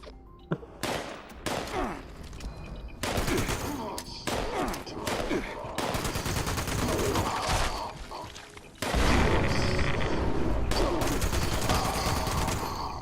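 A grenade blast erupts amid rattling gunfire during a Fallout 76 firefight, the shots cracking in bursts before a heavy explosion hits loudly near the end, with someone talking in the background.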